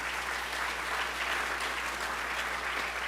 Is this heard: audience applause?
yes